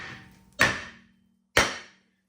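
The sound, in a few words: hammer striking brake rotor on Cadillac SRX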